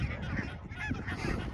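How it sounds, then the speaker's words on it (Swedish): Barnacle geese honking outdoors in snow, a close flock giving rapid, overlapping honks and yelps without pause for the whole short stretch. "Och lite vidkindad gås."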